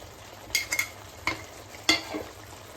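A spoon scrapes and clinks against a pot of boiling tomato onion curry in a few short strokes over a low background bubble, close by and otherwise quiet.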